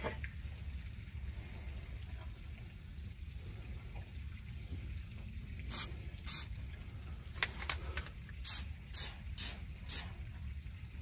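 Several short, sharp hissing bursts from a spray can, spaced irregularly over a quiet low background, growing more frequent toward the end.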